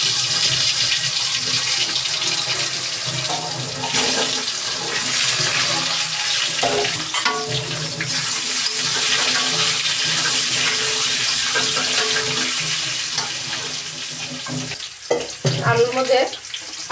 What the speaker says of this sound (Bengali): এখন সেদ্ধ করা আলুগুলোকে ছেড়ে দিয়ে তেলের মধ্যে দিয়ে ভেজে নেব আমি।